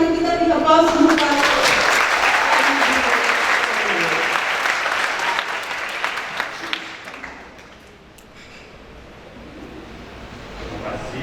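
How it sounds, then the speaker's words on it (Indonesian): An audience in a lecture hall gives a warm round of applause for the invited speaker Pak Dodi at a Bank Indonesia teaching event. The loud, dense clapping lasts several seconds, then thins out and fades to a quiet room. "mari kita beri aplaus untuk Pak"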